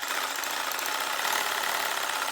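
A sawzall reciprocating saw clamped to a paint can to shake it, a loud, close, steady buzzing motor rattle with dense vibration, running unbroken throughout with no talk.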